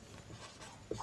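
A pen scratches across paper while a math proof is written out, a short, faint rubbing stroke heard alone at close range.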